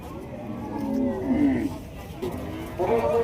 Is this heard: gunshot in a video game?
no